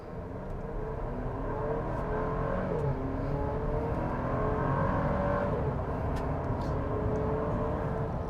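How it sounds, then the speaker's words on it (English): A 2024 Chevrolet Traverse with a 4-cylinder engine pulls away under acceleration, its steady engine drone and road noise rising gradually and holding at a moderate, continuous level for several seconds with no talking. "Let's give it a go and see how that 4-cylinder works."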